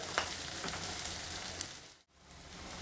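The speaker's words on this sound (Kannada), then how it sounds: "ಈರುಳ್ಳಿ ಎಲ್ಲ ಚೆನ್ನಾಗಿ ಫ್ರೈ ಆಗಿದೆ" Onions fry in a pan for chitranna, a steady close sizzle and crackle with no voices over it.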